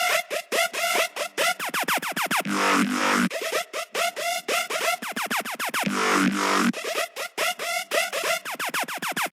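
Choppy robotic electronic music with rapid stuttering synth notes, interrupted twice by longer buzzing chord bursts, mechanical and rhythmic throughout.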